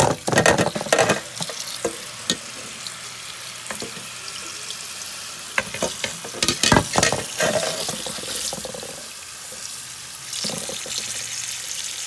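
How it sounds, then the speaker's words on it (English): Tap water splashes steadily over lemon mint leaves in a kitchen strainer, with bursts of louder rinsing and handling clatter near the start and middle before the flow softens. "I got my lemon mint leaves in the strainer, and I'm just going to rinse them off"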